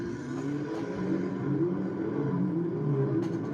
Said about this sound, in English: The cars will make their way to the starting grid